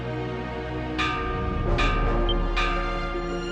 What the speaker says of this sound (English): Everyone, the alarm bells!